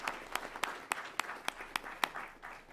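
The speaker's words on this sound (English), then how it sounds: "big round of applause" A modest crowd claps in a quiet room at a school district board meeting, with sharp individual claps standing out in a loose, uneven rhythm.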